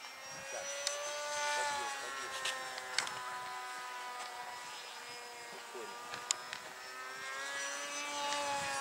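A radio-controlled model Su-57 jet engine whines steadily, its high pitch sliding slightly, with faint voices and a few clicks in the background.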